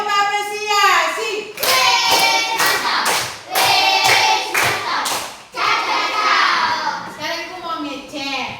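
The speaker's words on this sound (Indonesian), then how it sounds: "Tepuk apresiasi." A classroom of children doing a rhythmic appreciation clap, short bursts of clapping and thumps in a patterned beat, mixed with children chanting and talking over it.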